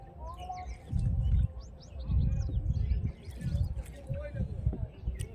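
Birds chirp and twitter in scattered, fairly faint calls by the Ganges at Chupi Char, Purbasthali, while people talk over them in the foreground.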